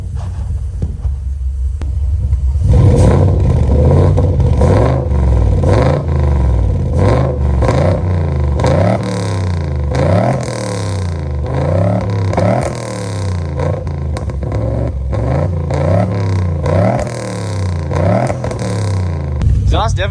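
Toyota 3UZ V8 engine idling in a Nissan 240sx, a low rumbling idle with a rhythmic, slightly uneven throb and repeated thumping pulses, close and steady, while a person talks over it.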